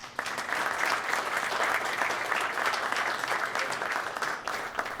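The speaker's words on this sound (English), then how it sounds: "I'd like to invite all of us in uniform to express our thanks with a round of applause." Uniformed members and the audience applaud at a fire department badging and retirement ceremony, producing a dense, even round of clapping that holds steady for several seconds with no voices.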